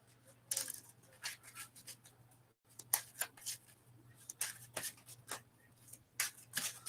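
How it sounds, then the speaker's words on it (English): Quick bursts of riffling and snapping as a Magic: The Gathering deck is shuffled, several rapid shuffles in a row, close and crisp with brief pauses between them. "Do a quick shuffle."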